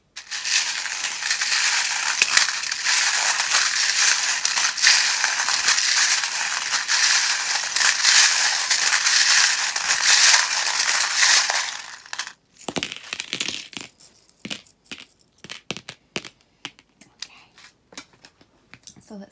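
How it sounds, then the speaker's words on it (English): Metal charms clinking and rattling as a tarot deck is shuffled, a dense continuous jingle for about twelve seconds, then breaking into scattered sharp clicks and taps. "if you don't like the sound of the charms or if you have the volume turned up really loud"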